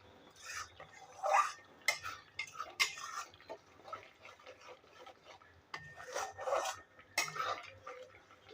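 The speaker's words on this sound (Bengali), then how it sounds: "মশলাটা আমি ভালোভাবে ভেজে নেব।" Spice paste for a cauliflower and potato curry is stirred and fried in a pan, giving soft scraping and clinking of a spoon against the pan, with no talking and a faint background hum.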